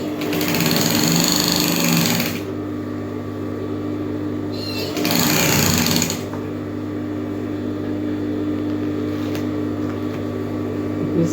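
A sewing machine stitches a three-quarter straight skirt in two loud bursts, about two seconds each, separated by a pause with a steady low hum underneath.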